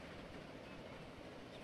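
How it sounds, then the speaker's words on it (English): A passenger train in the Transport Fever 2 video game rolls into a station with a faint, steady rumble and a soft clatter of wheels on rails, and no voices over it. "there's a train from Grand Rapids, I think it is."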